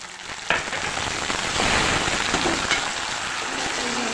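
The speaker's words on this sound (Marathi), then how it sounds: "घालत आहे मी आता टमाटो." Tomatoes tipped into a hot frying pan on a medium flame, giving a steady broadband sizzle and crackle that swells after a sharp onset and holds for several seconds, fairly close, with no talk over it.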